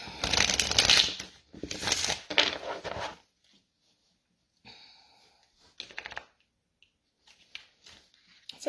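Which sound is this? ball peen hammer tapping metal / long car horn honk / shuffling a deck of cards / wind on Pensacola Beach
shuffling a deck of cards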